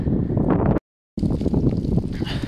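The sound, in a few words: strong wind blowing from the north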